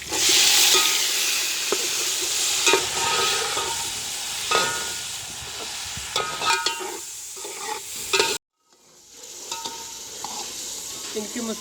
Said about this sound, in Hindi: अब इसमें हम ऑयल डालेंगे, कुकिंग ऑयल। ये इसमें हम डाल रहे हैं।